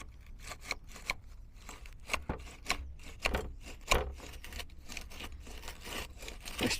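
Grit grinds and scrapes in the runners of a Vito taxi's electric step, heard as a close, quiet run of rough rasping and scratchy pulses.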